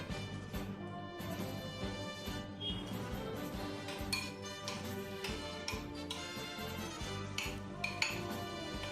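Crushed garlic mixture being mixed in a bowl, with steady clinking of a utensil against the bowl and a bed of background music throughout, no speech.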